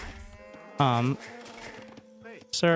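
A cow moos in the strategy game Age of Empires 2, a short low call rising out of game sounds, with a brief bleat-like animal call near the end and someone speaking quietly in between.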